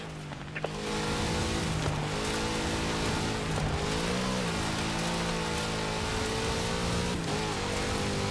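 A big Chevrolet engine roars steadily at high revs in Forza Horizon 4, a loud sustained drone with rising and falling pitch that keeps going from the first second to the end.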